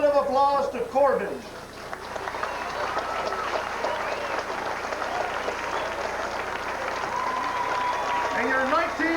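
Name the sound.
crowd applause at baseball state championship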